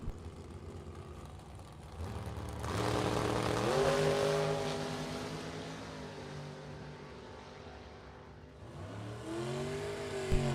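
A drag strip run in a Super Pro bracket race: a dragster and a competing car launch with a loud rising engine roar, revving through gear changes as they pass and fade, then a second engine surges again near the end.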